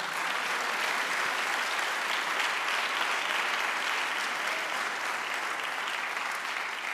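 A church congregation gives a sustained round of applause to the Lord during a sermon, a dense, even wash of many hands clapping at once that holds steady from start to finish.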